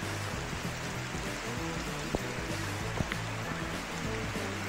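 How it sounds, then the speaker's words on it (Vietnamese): Heavy rain pours at a mountain stream at Núi Cấm, a dense, even wash of falling water and rushing flow with a few faint knocks, fairly soft and steady throughout. "Mưa lớn lắm mọi người."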